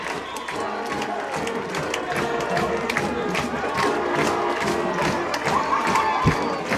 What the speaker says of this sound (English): He wants the crowd to stand and cheer.